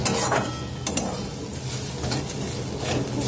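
Pointed gourd, bitter gourd and potato frying together in a pan, a steady close sizzle broken by a few scraping stirs and light clinks of a utensil against the pan, with no talk.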